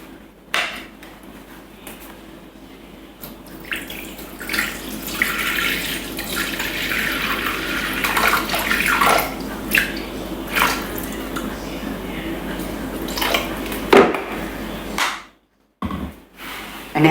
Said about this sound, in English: we're going to rinse the mixing bowl, place in 250 grams of water